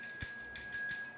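A notification bell chimes three times in quick succession, bright ringing tones with a short bright strike at each, alone without voices.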